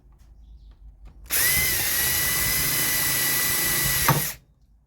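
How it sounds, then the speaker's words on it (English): A power drill whirs steadily at close range, drilling plastic, for about three seconds, starting abruptly and stopping with a brief wind-down, otherwise quiet around it. "I'll just drill where it is, I suppose."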